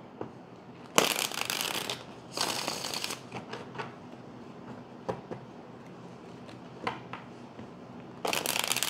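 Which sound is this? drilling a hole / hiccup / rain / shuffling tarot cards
shuffling tarot cards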